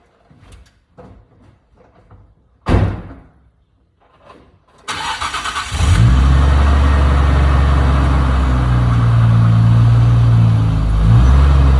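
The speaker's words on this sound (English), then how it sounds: "a cold start on this car is not that exciting" Bentley car on a cold start: a few clicks and rustles, a door thunk, then the starter catches and the engine roars up loud and close before settling into a steady, rumbling idle.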